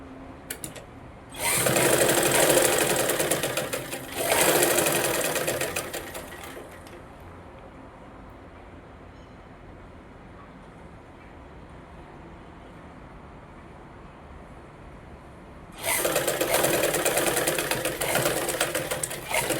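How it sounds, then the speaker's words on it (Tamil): A sewing machine stitches a straight line along a blouse lining in two quick bursts of fast whirring. A long quiet gap follows before a third loud run of stitching starts. "ஓட்டி விட்டு ஸ்ட்ரெயிட் பண்ணி அப்படியே நேராக தையல் அடிச்சுக்கலாம்"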